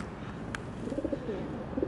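Pigeons that have been fed pigeon nuts coo softly nearby, a few low, rounded phrases near the end over a quiet outdoor background with one brief sharp click.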